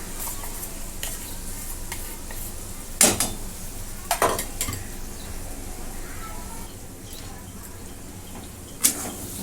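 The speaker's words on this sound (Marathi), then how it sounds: "आता ही वाटलेली डाळ मी सगळं टाकून घेते" Ground chana dal paste sizzles in a pan over a low flame for pithla, with a soft continuous fry and sharp spatula scrapes against the pan at a few separate moments.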